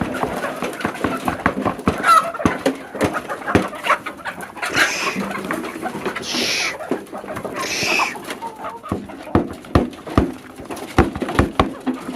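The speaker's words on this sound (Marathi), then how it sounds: "टोटल पक्षी गव्हाणीमध्ये भात खायला लागलेला आहे" A group of chickens eating rice from a feeding trough, clucking and squawking nearby, busy overlapping calls with sharp scattered bursts, continuing throughout.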